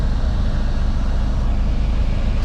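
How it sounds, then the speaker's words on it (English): Car heater blower fan running at full blast, a steady loud broadband whoosh with low rumble underneath, constant throughout and close by. "we'll just turn on this heater full blast, heat, full blast"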